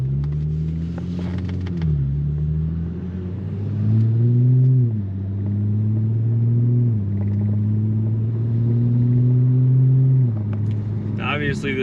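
Audi B9 S4 fitted with an AWE Track Edition exhaust drives by with a deep, steady exhaust drone, shifting tone as it gears up and eases off across the run, loud and close with a brief higher noise near the end.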